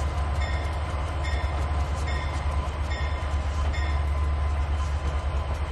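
A train in the Trainz 2019 rail simulator runs steadily along the track with a constant low rumble and periodic clicking wheel beats over rail joints, loud and unbroken with no talk.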